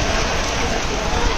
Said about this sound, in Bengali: তো শুরু হয়ে গেল ভীষণ বৃষ্টি